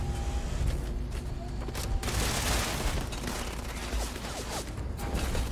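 Gunfire in Starfield hits the player as a steady, close wash of dense shots and impacts. A voice can be heard faintly underneath.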